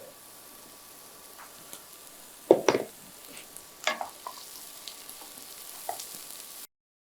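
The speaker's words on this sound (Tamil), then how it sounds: "இது லைட்டாக சாட்டே பண்ணுறோம், லைட்டாக வதக்குறோம்." Capsicum sautéing lightly in butter in a pan, a soft low sizzle with a few sharper scrapes and stirring clatters, fairly quiet and without talk.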